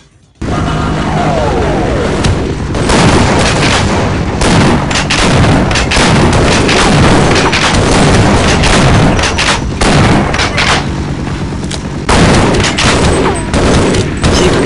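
Heavy gunfire and booming grenade blasts in the Half-Life shooter, a dense, loud barrage of shots and explosions that runs almost without a break.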